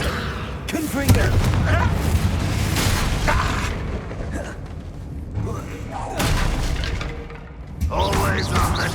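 Confringo spell blasts in the Hogwarts Legacy video game, a string of sharp cracking booms with bursts of crackle scattered through combat, mixed with in-game voices speaking.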